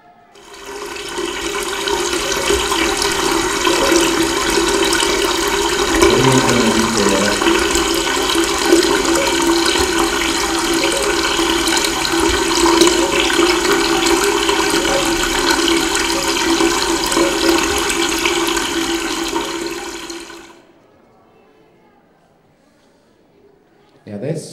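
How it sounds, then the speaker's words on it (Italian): Water splashes and gushes out of a bucket steadily and loudly for about twenty seconds, then cuts off into near silence. "E adesso un secchio, ancora acqua."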